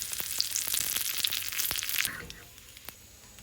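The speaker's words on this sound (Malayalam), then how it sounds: "ഞാനിതിൽ കടുക് താളിച്ച് ചേർക്കാൻ പോവുകയാണ്" Mustard seeds, dried red chillies and curry leaves crackle and sizzle in hot coconut oil for a Kerala parippu curry tempering, a busy spitting hiss with sharp pops that dies away after about two seconds.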